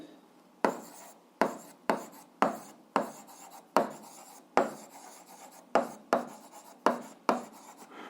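Chalk strokes tap and scrape across a board while an algebra problem about cyclists is worked out, about a dozen sharp, close scratches arriving in quick irregular bursts, each fading before the next.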